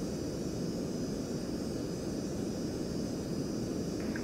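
Steady aircraft engine roar from a home cockpit flight simulator during takeoff, a constant, even drone throughout with no voices.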